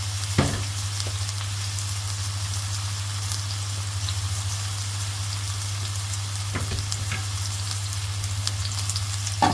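Oil sizzling and frying steadily in a pot on the stove while mallum is made, a constant crackling hiss throughout with a couple of faint clicks, no voices.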